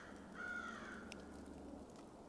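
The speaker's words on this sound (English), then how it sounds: "Sounds like there are some birds fighting." Crows caw in a short harsh burst, a few rough calls close together near the start, then fading, heard over a steady outdoor background hum.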